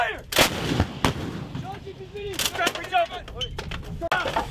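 Marine artillery pieces fire during a live-fire exercise, with sharp loud blasts and echoing reports amid shouted commands and radio-like voices in the field.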